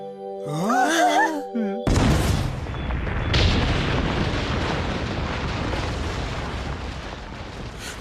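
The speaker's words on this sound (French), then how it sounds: "Vous êtes prêts à affronter l'explosion?" Cartoon explosion: after a brief musical flourish, a sudden loud boom bursts out and trails into a long rumbling, crackling decay.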